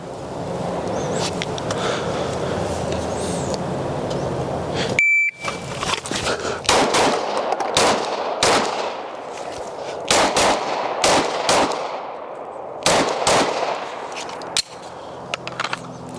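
Ten pistol shots fired in a USPSA drill at a range, heard as loud, sharp, close reports in an uneven sequence after a stretch of steady background noise.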